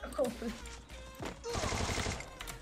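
Rapid gunfire bursts from a shooter video game, with players chatting excitedly in Portuguese over the shots; the firing comes in dense clusters, loudest through the second half.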